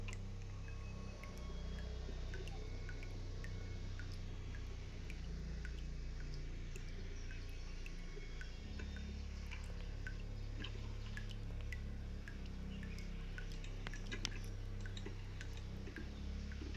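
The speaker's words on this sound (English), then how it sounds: "I can hear something dripping." Water dripping in a horror video game: scattered faint ticking drips falling at irregular intervals over a steady low ambient rumble, quiet and isolated with no voices.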